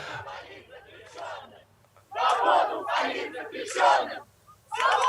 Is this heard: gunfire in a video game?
no